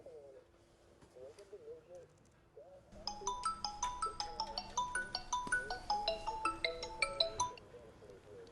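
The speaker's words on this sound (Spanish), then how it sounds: "Enviaron un mensaje al celular." A mobile phone message alert plays as a rapid, bright melodic chime pattern repeating for several seconds, following brief speech and a faint cooing at the start.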